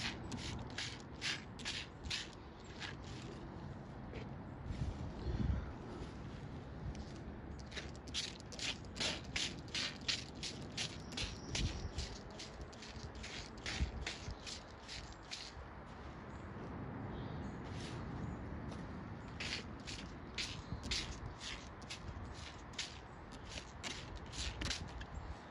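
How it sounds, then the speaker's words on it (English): Cabbage plant leaves being sprayed in a garden with a hand sprayer, a steady run of short repeated hissing bursts with pumping clicks over a rustling, scratchy background, fairly close. "Spraying the leaves then."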